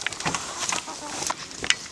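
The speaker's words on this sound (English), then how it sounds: "the favorite chicken." Chickens on an off-grid homestead cluck in short, scattered bursts at moderate distance over a soft outdoor background, with a faint murmur of voices.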